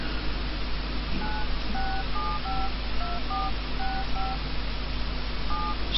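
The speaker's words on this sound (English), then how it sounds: "Let me just dial my own number to call myself." Telephone keypad tones beep out a dialed number, a run of a dozen or so short dual-tone pips in irregular rhythm, clear over a steady background hiss with no talking.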